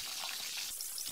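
Fish roe frying in a pan, a steady close crackling sizzle running without pause, with no talk over it.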